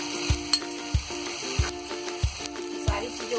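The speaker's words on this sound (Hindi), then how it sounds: "सारी चीजों को अच्छी तरह मिक्स कर देंगे।" Chicken fried rice ingredients stirred in a hot pan, a steady sizzle punctuated by a regular rhythm of about eight sharp spatula strikes against the pan, close and loud.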